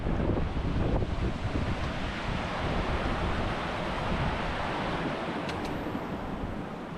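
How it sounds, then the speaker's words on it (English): A mountain river in the Cairngorms rushes out of a boulder field, a loud, steady broadband roar mixed with heavy wind buffeting the microphone, with no voices. "the river comes from this boulder field and comes flowing straight out"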